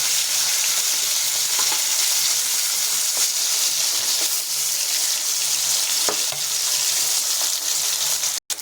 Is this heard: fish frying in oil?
yes